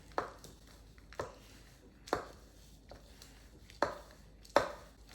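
A utensil cuts butter into an apple crisp topping in a bowl, a handful of separate soft thuds at irregular intervals, close and quiet with pauses between strokes.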